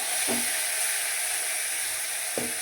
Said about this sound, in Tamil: இப்போ வந்து நம்ம கருவேப்பிலை போட்டுக்கலாம். கருவேப்பிலை வெடித்ததும்